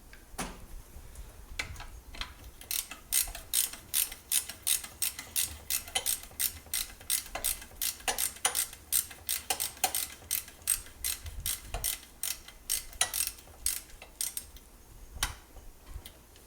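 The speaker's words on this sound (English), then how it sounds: "We're going to loosen that up until we can get the belt off." A ratchet socket wrench clicks in quick, regular bursts while loosening a Subaru drive belt adjuster, the close, crisp ticks repeating with brief pauses between strokes, with no voices.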